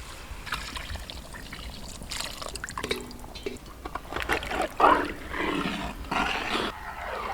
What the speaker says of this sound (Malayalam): അപ്പം ഇനി നമുക്ക് ഇതിനകത്തോട്ട് പാലൊഴിച്ച് കൊടുക്കാം.